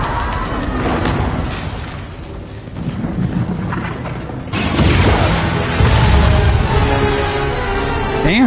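Fire and explosions tear through a temple in a Star Wars show, a dense roaring rumble with booming bursts that swell louder halfway through, heavy and continuous.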